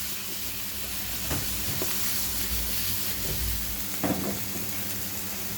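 Pumpkin and Irish potato chunks sizzle steadily in a pot, with two brief clattering shakes of the pot breaking through the continuous frying hiss.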